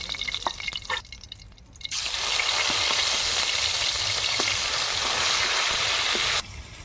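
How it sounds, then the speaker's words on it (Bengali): Fish sizzles loudly in hot oil in a pan, a steady broadband frying hiss that starts after a couple of seconds of quieter dripping and clatter and then holds at an even level. "এই তেলে বাকি মাছ দিয়ে দেবো"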